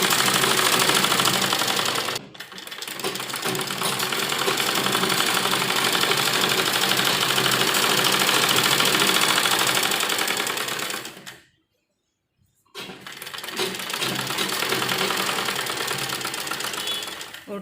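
An electric sewing machine stitches palazzo lining fabric in long continuous runs, loud and close, pausing briefly near the start and again for about a second before resuming.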